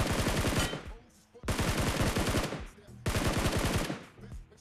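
Automatic gunfire in BGMI comes in three long rapid bursts, each a tight string of sharp shots separated by brief gaps, fairly distant and moderately loud.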